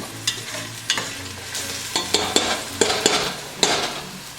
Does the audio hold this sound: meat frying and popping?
yes